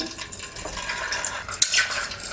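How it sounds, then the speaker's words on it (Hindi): Eggs dropped one at a time into lightly heated oil in a pan for frying, a steady close sizzle with a sharp spattering crackle that flares briefly and then settles back into hiss. "अब हम इसमें एक एक करके अंडा डालेंगे"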